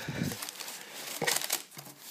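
Kraft paper crinkling and rustling while a designer box is unpacked, a few short bursts of crackling at close range, fairly soft, with brief pauses between handfuls.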